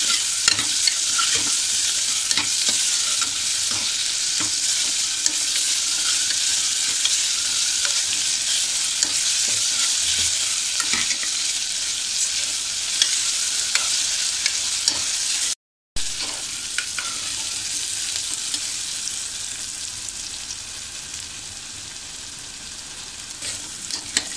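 Chopped onion sautés in a pan until it turns pink, giving a loud, steady, close sizzle that runs continuously with faint stirring ticks and one brief cut partway through.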